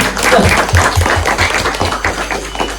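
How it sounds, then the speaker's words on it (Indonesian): A few people clapping hands in a podcast studio, a close, loud patter of uneven claps that thins out toward the end. "Tepuk tangan dulu."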